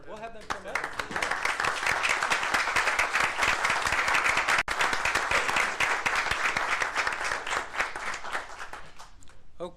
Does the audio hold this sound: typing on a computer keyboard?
no